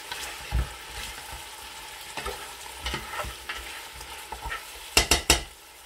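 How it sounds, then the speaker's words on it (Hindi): Meat korma sizzles and fries in a pot while being stirred, with scraping and clinking spoon strokes through steady frying hiss, ending in a quick burst of sharp metallic knocks against the pot. "गोश्त हमारा जो है वो पक रहा है"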